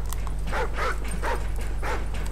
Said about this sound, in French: Couchez, chien, couchez.